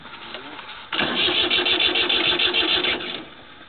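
A small Kubota engine on a papercrete chopper machine cranks and catches, then settles into a loud, rapid, chugging run before easing off near the end.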